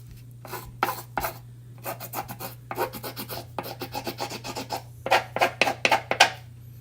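Rapid bursts of rubbing and rasping as a small sanding pad is worked back and forth, close and fairly loud, with a steady low hum underneath.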